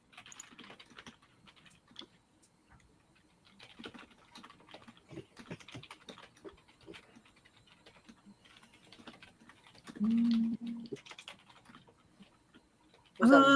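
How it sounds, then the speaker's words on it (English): Soft keys clatter on a computer keyboard in scattered, uneven bursts, faint and close, with brief quiet gaps, then a couple of louder tones break in near the end. "There's a lot of typing going on."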